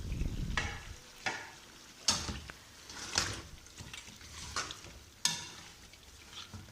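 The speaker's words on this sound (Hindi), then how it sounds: "और ये प्याज और गोश्त हम अच्छी तरह मिक्स कर लेंगे।" Onions and mutton are stirred together in a karahi pot for mutton karahi, with sharp scraping spoon strokes every second or so over a faint sizzle.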